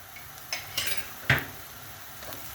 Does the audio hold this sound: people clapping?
no